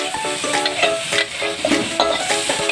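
Cucumber frying in a pan for a Taiwanese dish, giving a steady close sizzle with faint stirring clinks throughout, no talk.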